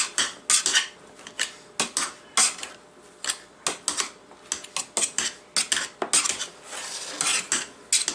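Cooked potatoes are mashed in a pot with a masher, giving rhythmic metallic clanks and thuds against the pan, close and repeated about once or twice a second.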